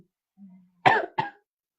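A person coughs twice in close succession after a faint low hum, short throaty bursts heard close and clear in an otherwise quiet room.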